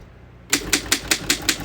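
A 1911 Underwood No.4 antique desktop typewriter typing, six crisp even key strikes in steady rhythm, close and clear with no talking.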